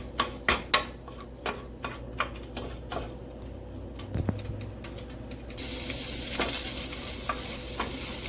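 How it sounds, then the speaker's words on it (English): Pancetta sizzles quietly in a pan while a utensil taps and scrapes against it several times, and a brighter hiss of frying rises toward the end. "as that sizzles, you're going to cook the pancetta all the way until you see the fat reduced"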